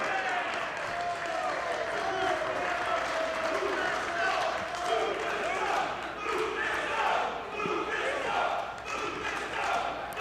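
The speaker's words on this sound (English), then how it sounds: "This crowd coming alive for Lufisto" A packed crowd at a women's extreme wrestling show roars steadily for Lufisto in a WSU Championship match, a dense, continuous wall of cheering and shouting with scattered claps that stays loud throughout.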